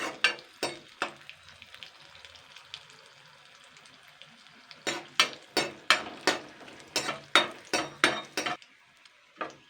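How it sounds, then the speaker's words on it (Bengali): Green chillies and peanuts fry in hot oil with sharp, irregular crackling pops that come in clustered bursts over a faint background sizzle. The sound is close and fairly quiet, with no talking. "আর এই দুটো কাঁচা লঙ্কা আমি ভেজে নেব লাল লাল করে"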